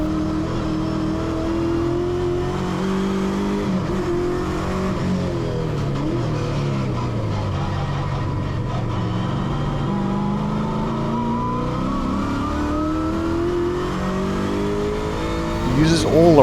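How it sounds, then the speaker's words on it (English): Holden V8 race car on a circuit, its engine droning and rising in pitch as it accelerates through the gears, heard close and steady with a commentator talking over it. "The big V8 asks for more revs at 2, and Brian reluctantly accedes with a nudge of the sequential shifter."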